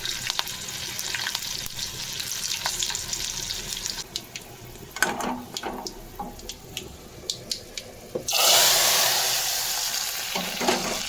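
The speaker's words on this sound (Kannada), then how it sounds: "ನಾನಿಲ್ಲಿ ಒಗ್ಗರಣೆಗೆ 1-2 ಸ್ಪೂನ್ ಎಣ್ಣೆ, ಸಾಸಿವೆ, ಬೆಳ್ಳುಳ್ಳಿ, ಒಣಮೆಣಸಿನ್ಕಾಯಿ, ಕರ್ಬೇವಿನ ಸೊಪ್ಪು ಹಾಕಿ ಒಗ್ಗರಣೆ ಹಾಕಿ" Hot oil sizzles and crackles steadily as mustard seeds, garlic, dried red chillies and curry leaves go in for a tempering, with occasional stirring clinks and a louder burst of frying near the end.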